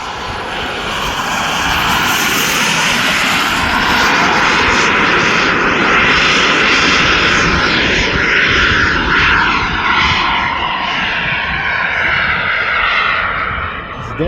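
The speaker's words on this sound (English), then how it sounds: "Real T-38's got baby little motors in it, so it sounds very different from an F-16 or an F-15." Scale model T-38 jet aircraft flying at a model airshow, its small engine producing a continuous loud roar and whine that holds steady as it passes, close and alone with no talk.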